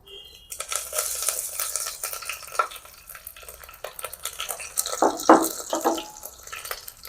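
Mustard seeds, cumin and curry leaves fry in hot oil for avalakki pongal, giving a soft, steady sizzle and crackle with light stirring scrapes and a brief louder spatter toward the end.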